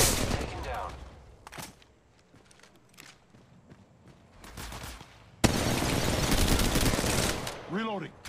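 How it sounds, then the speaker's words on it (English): Gunfire in Apex Legends Mobile, with scattered shots and footsteps, then a loud, sustained barrage of rapid automatic fire near the end, and brief voice chatter mixed in. "enemies are shooting at me"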